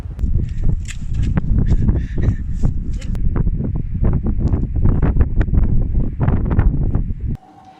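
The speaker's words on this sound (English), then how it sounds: "But it's very windy and very, very cold." Strong wind buffets the microphone outdoors in very cold weather, making a loud continuous rumble with gusty bursts that cuts off abruptly near the end.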